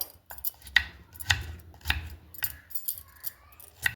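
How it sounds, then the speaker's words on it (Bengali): A potato being cut into small pieces with a knife, producing a series of crisp, close knocks and clicks against a hard surface, spaced irregularly roughly every half second, with quiet gaps between. "আমি আলুটাকে এইভাবেই কাটছি, ছোট ছোট করে পিস পিস করে"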